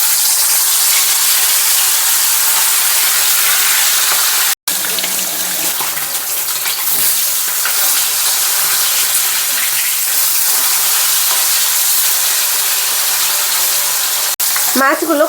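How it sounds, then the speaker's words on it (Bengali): Fish sizzling and frying in hot oil in a kadai on a gas stove, a loud continuous crackle throughout with occasional stirring and a brief cut midway. "তো মাছগুলো ভেজে নিচ্ছি গাইস"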